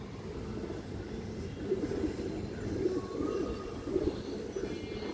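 Pigeons coo in soft repeated low pulses close by, over a murmuring background with a faint distant drone.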